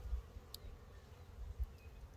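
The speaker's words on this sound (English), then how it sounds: "The bees seems to have grown accustomed to the new entrance." A low, steady honey bee buzz hums throughout at a hive entrance, with a few louder passes of individual bees flying close by.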